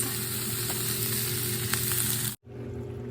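Onions frying in a pan for fish soup give a loud, steady close sizzle with light stirring that cuts off abruptly near the end, then resumes; no speech.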